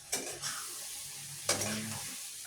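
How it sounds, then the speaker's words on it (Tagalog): Sliced eggplant (talong) dropping into hot oil in a pan, sending up two bursts of crackling sizzle that settle into a steady, moderate frying hiss. "Pwede na po natin lagay itong ating talong"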